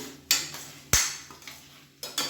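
A masala side dish for idli, dosa and chapati tossed and stirred in a pan, with three or four sharp clanks of a spatula against metal over a faint frying hiss and no talking.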